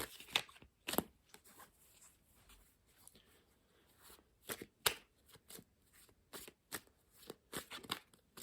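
Tarot cards are shuffled by hand in a quiet room, with bursts of crisp riffling and flapping spread unevenly across several seconds, close to the listener and fairly soft.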